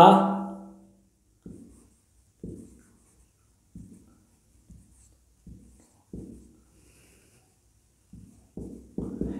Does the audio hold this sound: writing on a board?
yes